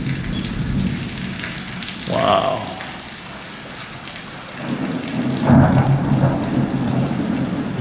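Thunder rumbles twice over steady monsoon rain, a deep swelling roll early and another later, with a brief exclamation from a nearby voice as the thunderstorm passes overhead.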